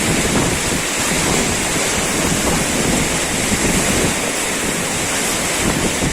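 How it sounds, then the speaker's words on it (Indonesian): Roaring river rapids rushing around a raft, a dense, continuous wash of churning whitewater, loud and close with wind buffeting the microphone throughout. "Oh, tinggi sekali ombaknya."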